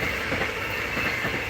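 A train rolls past on a railway beside a cement walking path, giving a steady, continuous rumble with faint wheel clatter and a high metallic hiss, heard alone at moderate distance.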